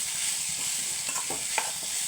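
Pumpkin stir-fry with grated coconut hisses in a pan while a spoon stirs it, a steady close sizzle with a few brief scraping clinks.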